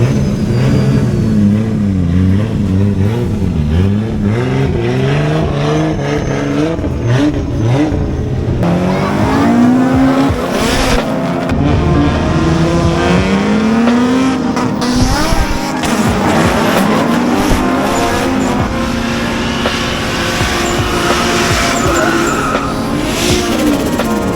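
A Toyota AE86 engine revs hard while tires squeal and skid repeatedly at an airstrip, loud and close, with shifting pitch throughout.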